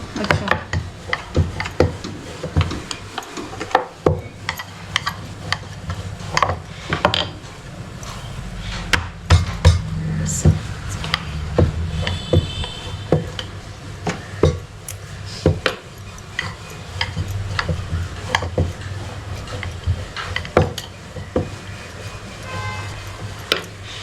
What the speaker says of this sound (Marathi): मी जेवढी पातळ लाटता येईल तेवढी पातळ लाटून घ्यायची